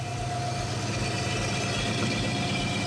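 A Rambler wagon's engine idles after a chassis swap, a steady, close, continuous low rumble with an even mechanical hum and no talk over it.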